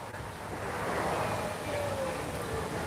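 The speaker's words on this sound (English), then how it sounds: "It is windy, windy, windy, windy. Super windy." Strong wind at Waikiki Beach, Hawaii, blows across the microphone in a loud, steady rush that mixes with surf washing near a pier.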